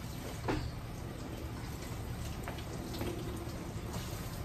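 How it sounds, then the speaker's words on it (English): Running water rinsing permanent wave solution from a client's hair at the nape of the neck, a steady close hiss of flowing water with faint splashes and no talking. "This is very important to remember to rinse the nape of the neck."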